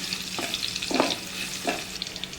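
Garlic fries in hot oil for kurdai bhaji, a steady close sizzle broken by three soft stirring scrapes of a spoon through the pan.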